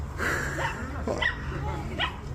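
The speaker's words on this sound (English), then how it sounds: "the yappy dog is completely useless." A small yappy dog gives a few short, high yips and barks, close and moderately loud over a low background hum.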